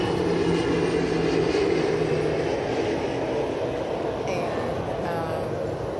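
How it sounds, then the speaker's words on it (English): An airplane passes overhead outdoors beside a pool, heard as a continuous, broad, distant rumble that stays level throughout. "there's a plane overhead."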